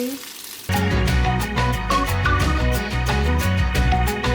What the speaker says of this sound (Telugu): చక్కగా ఫిష్ ఫ్రై కూడా అయిపోతుంది